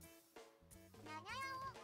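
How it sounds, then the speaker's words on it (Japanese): A cat meows in a garden, one drawn-out rising and falling cry after a couple of shorter calls, fairly close and clear with no talk over it. "庭から猫の鳴き声がします。"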